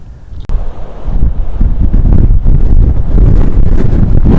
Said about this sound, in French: Attention le vent.